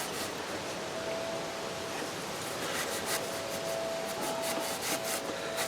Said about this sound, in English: I'm going to use my cloth here to try and deglaze